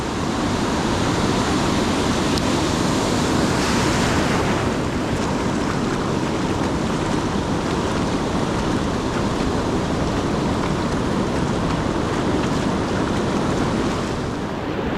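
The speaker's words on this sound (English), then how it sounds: "there's gonna be a surge of water that comes up over your waist." Ocean waves surge steadily onto the sand at Pismo State Beach on California's Central Coast, a loud, continuous close-up wash with wind buffeting the microphone.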